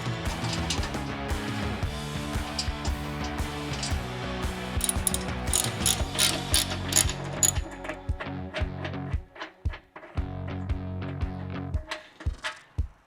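A ratchet on a T40 Torx bit removes fender screws from a Harley-Davidson Touring, giving bursts of rapid, close, metallic clicking with short pauses between strokes.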